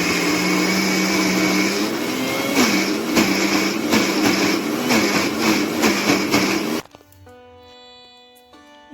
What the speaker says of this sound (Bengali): প্রথমে আমরা মিক্সিতে কলাইটা ভালো করে বেটে নেব।